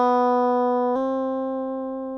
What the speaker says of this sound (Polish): Uderzamy H i przyciskamy dźwięk C bez szarpania struny drugi raz.